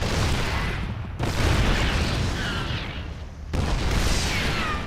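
Heavy booming explosions roll and crackle in a StarCraft battle with Marines, dense and continuous with sharp new blasts cutting in at intervals.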